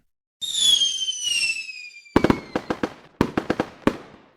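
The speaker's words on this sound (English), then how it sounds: "That might be the biggest firework I've ever seen." Independence Day fireworks: a rising whistle streaks up, then a rapid series of sharp crackling bangs pops in two bursts, loud and fairly close with no talking.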